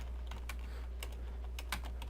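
Sparse, light keystrokes on a computer keyboard while text is written, a few clicks spaced over a steady low background hum and no voices.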